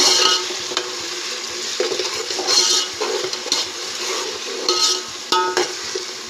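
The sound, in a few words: frying ginger paste in pan for chicken biryani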